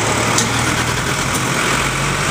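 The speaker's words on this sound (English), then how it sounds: "Listen to that engine." A 2009 Jaguar XF's engine idles just after a push-button start, a steady, even hum with no talk over it and no change in pitch.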